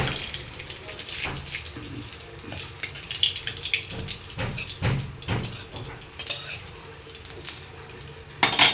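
Two bay leaves dropped into hot oil while tempering for an egg curry with bottle gourd, giving a steady crackling sizzle with scattered pops and a light spluttering hiss throughout.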